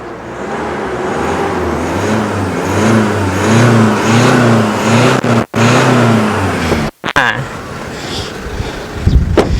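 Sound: Isuzu D-Max 1.9 pickup engine starting and running

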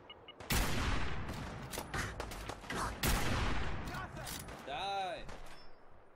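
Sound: gunshots from Fallout 4 video game, attempting a headshot

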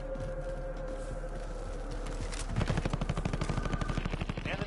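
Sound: gunfire in a video game

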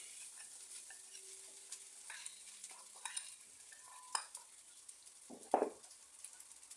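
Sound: stirring food in a pan

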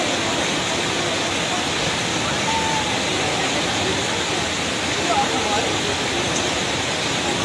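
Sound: rushing flood water in Dunai, Dolpa

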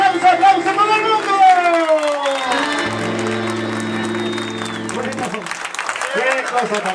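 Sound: audience applause at a concert

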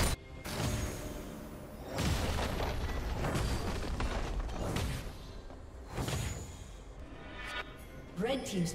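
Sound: turret being destroyed in League of Legends video game

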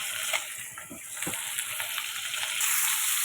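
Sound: potatoes frying in oil in a pan

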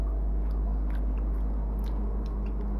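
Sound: chewing while tasting crock pot food

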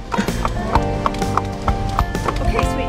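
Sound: horses walking in, hooves clip-clopping

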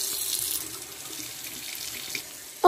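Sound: water running from a tap

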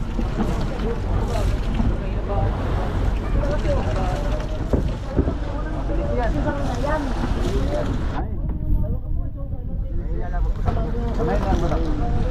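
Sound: fishing boat engine running at sea

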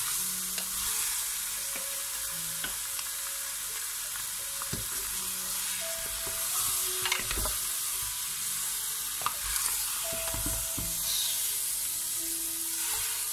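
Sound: chicken browning in a pan for tinolang manok

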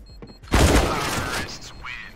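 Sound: gunshot in Counter-Strike video game

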